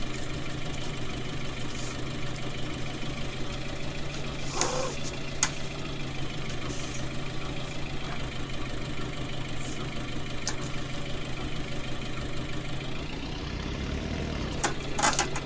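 A loader tractor's diesel engine running at idle on a farm during bale carting, a steady low throb with a slight knock continuing throughout, punctuated by a few faint clanks.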